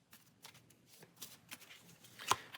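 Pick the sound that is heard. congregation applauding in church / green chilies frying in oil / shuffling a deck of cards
shuffling a deck of cards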